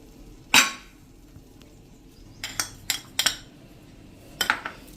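A spoon mixing dry mango powder, Kashmiri red chili powder and black salt in a bowl, with one sharp clink then a scattered series of light metallic taps and scrapes, close and quiet, with no talk.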